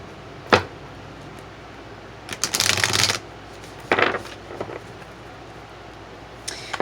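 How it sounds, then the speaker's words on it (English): Tarot cards are shuffled by hand in a quiet room: a single quick riffle, then a longer burst of shuffling lasting about a second, then a shorter one, each close and crisp, with no talking. "Let me shuffle these one more time."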